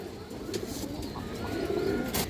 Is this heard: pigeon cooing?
yes